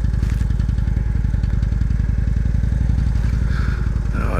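A loaded-up Highballer motorcycle on the Deal's Gap Dragon road, its engine throbbing loud and close with a steady rapid pulse, a rising whine near the end, no talking.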